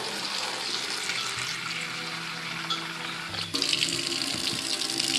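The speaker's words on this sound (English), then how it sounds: "What we need to do is rinse it really well." Tap water runs steadily into a kitchen sink as bird seed is rinsed, a continuous close splashing rush that grows louder and brighter in the last couple of seconds.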